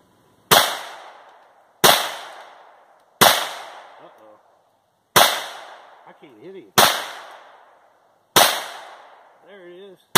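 Six sharp .22 LR pistol shots from a Browning Buck Mark ring out outdoors, spaced one to two seconds apart, each loud crack trailing a short echo, with faint ringing sounds after some shots.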